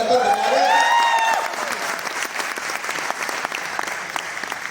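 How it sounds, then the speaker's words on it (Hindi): At a business training event, a rising, wavering vocal whoop opens over the crowd before the audience breaks into sustained applause with crisp, scattered claps that continue at a moderate level. "जोरदार तालियां यार"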